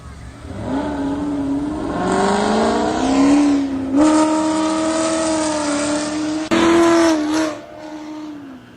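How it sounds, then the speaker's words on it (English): A car revs and speeds around a parking lot near a park and elementary school, the engine rising and falling loudly through gear changes, heard up close for several seconds before easing off. "Slinging a car around, they can lose control."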